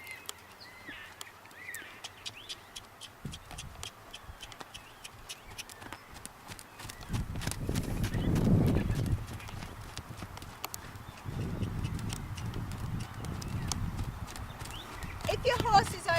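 A lunged horse trotting in a steady two-beat clip-clop of hooves, moderately close and continuous, with a louder stretch midway and occasional outdoor background noise.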